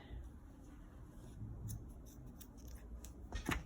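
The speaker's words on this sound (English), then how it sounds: "then you can just trim your cord" Scissors quietly snip and trim cord on a sewn wine duffel bag, with a few soft cuts and a brisker burst of snipping at the end.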